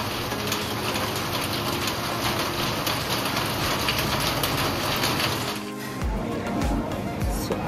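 Steady rain falls at a resort near Mumbai as a loud, continuous hiss, with a brief dip in the noise near the end.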